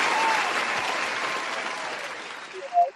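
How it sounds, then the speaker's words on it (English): Audience applause at a live talk event, a dense sustained clapping from a crowd that holds steady for about three seconds, then tapers off with a brief burst of noise at the end. "Let's give a round of applause."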